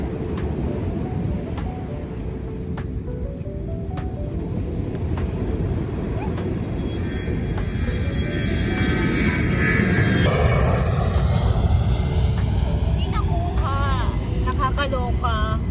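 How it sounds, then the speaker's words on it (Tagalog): An airplane near the runway at Mai Khao beach in Phuket, a loud, steady jet roar that swells and shifts in pitch as it passes, mixed with wind noise while people talk nearby. "Tapos dito naman yung landing. Doon yung take off."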